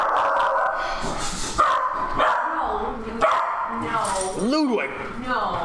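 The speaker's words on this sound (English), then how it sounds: "The dog is barking at somebody at the door." A dog barks at someone at the door, several sharp barks and a rising yip spaced across the moment, heard under steady nearby talking.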